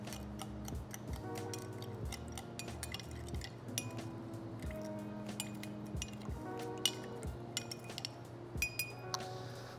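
An absinthe cocktail with sugar and wheat whiskey is stirred in a glass, with quiet, steady tinkling clinks of a spoon against the glass repeating through the stretch.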